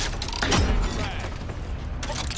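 A frag grenade bursts in a heavy boom during an Apex Legends match, followed by rumbling debris and game noise, fairly close and loud.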